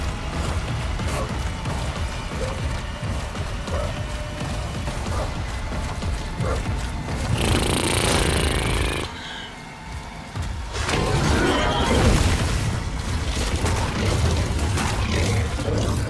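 Heavy gunfire and a booming explosion in the sci-fi horror video game The Callisto Protocol, with loud broadband bursts rising over a rumbling, mechanical game background and a second crashing blast moments later.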